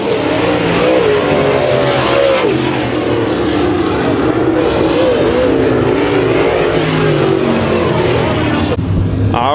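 Late model race cars roar past on the Kings Speedway oval during a heat race, a loud continuous engine din with shifting revs and passing surges throughout, easing slightly near the end.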